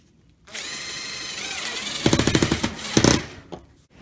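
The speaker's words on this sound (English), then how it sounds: "I'm gonna screw this in" Power drill driving screws into a vintage trailer rock guard latch, a close whirring motor that winds up steadily, then bursts into a rapid ratcheting grind as the screw seats, stopping and restarting briefly before falling silent.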